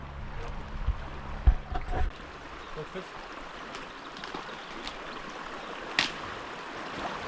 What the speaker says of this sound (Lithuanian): reikės bristi per upelį